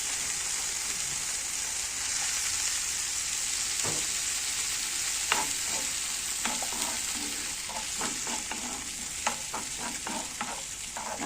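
Tomatoes are stirred into a hot pan of fried garlic and vinegar, giving a steady sizzle broken by scraping stirs and sharp clacks of the spoon, close and without talk.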